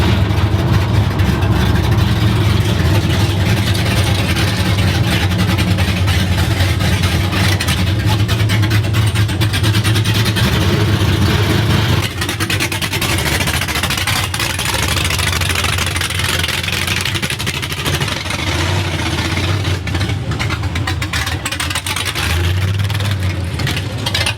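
An LS V8 in a freshly body-swapped car idles loudly up close, a rough heavy rumble that lifts and settles with light revs, while people talk nearby.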